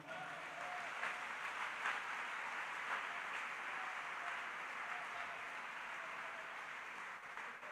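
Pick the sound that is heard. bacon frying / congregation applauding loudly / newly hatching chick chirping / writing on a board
congregation applauding loudly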